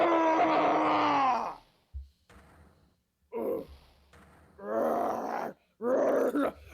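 A man's drawn-out scream from the Phoenix Wright: Ace Attorney video game rings out loud and close, followed by a few shorter strained groaning bursts separated by brief pauses.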